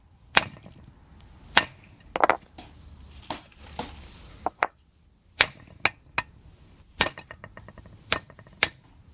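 Sharp metallic hammer strikes ring out as lug studs are driven from the front rotor of a 1989 Cummins truck, single and double hits spaced irregularly, some followed by quick rattling bounces, close and loud.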